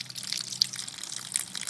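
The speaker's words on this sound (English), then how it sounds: "open up the tap, you have some pretty good water pressure coming out of there" Water runs from the open tap of a Good Ideas Rain Wizard 50 rain barrel in a steady close trickling hiss with small splashy fluctuations.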